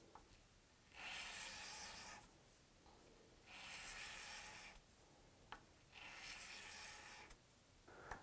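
Steel hunting broadhead drawn across sandpaper in slow, even strokes, four distinct rasping passes of about a second each separated by short quiet pauses, close and soft.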